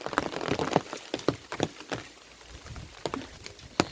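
Rain patters softly on a village farm among pomegranate trees, a faint, steady shower marked by scattered sharper drips and taps.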